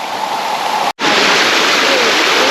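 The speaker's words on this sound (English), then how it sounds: "I'm actually standing on this ledge in the stream of water for the falls." A waterfall pouring over a rock ledge into a stream, heard from right in the flow: a loud, steady broadband roar of rushing water, briefly cut out for an instant before resuming.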